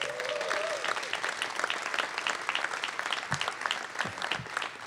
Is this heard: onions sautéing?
no